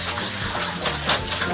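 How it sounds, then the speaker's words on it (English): Pot of pasta water poured out to drain while cooking puttanesca in a home kitchen, a steady close rushing gush with a brief louder splash near the end. "Now I'm gonna drain that pasta."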